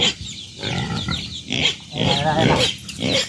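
A pig grunting and squealing on a farm in short repeated bursts, close and loud, with people talking around it.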